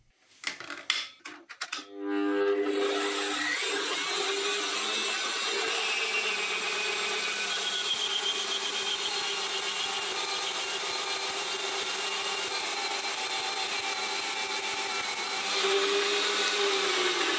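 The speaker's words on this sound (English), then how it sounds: "the tooth count of the bandsaw blade is probably a bit fine" A bandsaw with a fine-toothed blade cuts large-diameter round stock of 42CrMo4 alloy steel, starting with a few clanks, then a loud, steady grinding whine that continues without a break until the end.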